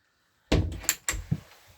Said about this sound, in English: I mentioned earlier you've got the sliding door, so this will give you access to the garage area.